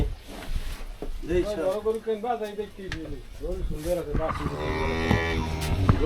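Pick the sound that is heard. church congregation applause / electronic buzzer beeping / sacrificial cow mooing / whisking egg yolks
sacrificial cow mooing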